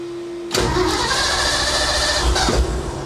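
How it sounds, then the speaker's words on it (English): A 1964 Ford F100 pickup engine cranks and fires after sitting through winter, catching abruptly and running loud and close with a rough, throbbing idle and a brief rev near the end. "I'm guessing she'll fire right up."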